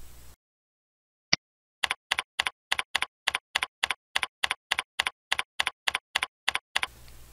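A username and password are typed on a computer keyboard to log in to a remote SQL server. One isolated keystroke comes first, then a brisk, even run of about twenty crisp key taps, close and clear in an otherwise silent room.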